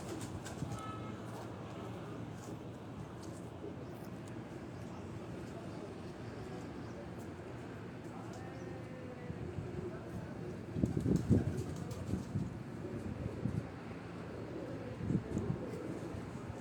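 Pigeons coo from a rooftop as soft, low, repeated murmurs amid steady outdoor background noise, swelling slightly toward the end while someone talks intermittently.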